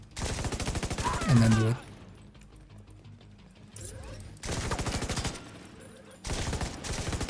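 Rapid automatic gunfire in a video game, laid down to suppress an enemy: dense rattling bursts in three long stretches separated by quieter gaps, loud and close, with someone talking briefly between them.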